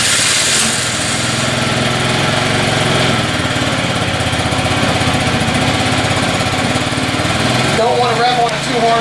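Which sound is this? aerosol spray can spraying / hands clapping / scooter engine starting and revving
scooter engine starting and revving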